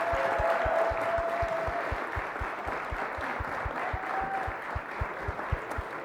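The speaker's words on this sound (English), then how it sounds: "give them a big round of applause." Audience applause for five startup finalists at a pitch competition grand finale, steady dense clapping from a crowd that carries on evenly for the whole stretch, with no voices over it.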